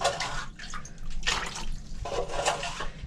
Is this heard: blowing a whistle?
no